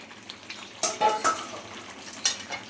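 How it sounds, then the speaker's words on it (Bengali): Chicken pieces for chicken curry frying and being stirred in a pan, with a soft steady sizzle broken by several sharp scrapes and clinks of a utensil against the pan, close and without talk. "চিকেন অনেকক্ষণ ধরে কষলাম, এবারে আলুগুলো দিয়ে দেবো এর মধ্যে।"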